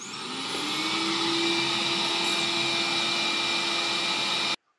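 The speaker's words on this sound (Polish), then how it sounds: "dzięki tym dwóm silnym wentylatorom, śmiało mogę powiedzieć, że ta moc ssania jest na tyle duża, że myjka nie odpada" A Liectrou window-cleaning robot runs its two strong suction fans in a loud, steady, unbroken whir that holds at one pitch for several seconds and then cuts off abruptly.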